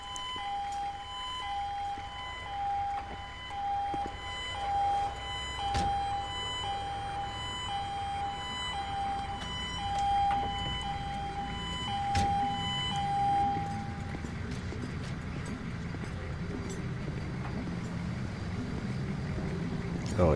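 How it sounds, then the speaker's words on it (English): Ambulance siren in a police role-play video game at Pacific Bluff, a steady wailing tone sounding across the first two-thirds of the clip over a continuous engine and ambient rumble, then fading out while the background noise carries on. "let me make room for your ambulance."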